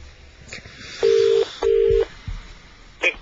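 Two sustained electronic telephone tones play back to back amid quiet background noise, followed by a brief higher beep.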